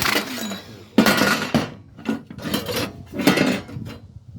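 A Ryobi ONE+ 18V 18-gauge cordless offset shears cutting through sheet metal, giving a series of close, harsh metallic crunching bursts with brief pauses between cuts.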